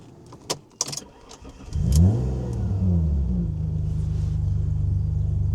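An Alfa Romeo 156 V6 24v engine cranks and catches, then revs up and settles into a steady, deep idle rumble, close and loud.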